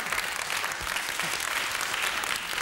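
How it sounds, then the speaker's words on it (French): A French television game-show studio audience applauds a winning contestant, a full, continuous wash of clapping, loud and even across the whole stretch. "Ah ben nous vous applaudissons."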